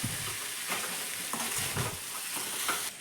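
Tempered lentils with fresh dill are stirred in a pan, a soft continuous sizzle broken by repeated scraping strokes of a spoon against the metal.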